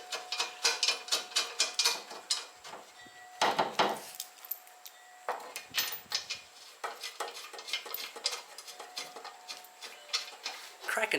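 Half-inch bolts being tightened on a Holden HK/HT/HG front guard in a shed, a quick rhythmic run of ratchet clicks in bursts with short pauses and a few louder metallic knocks, close and fairly quiet.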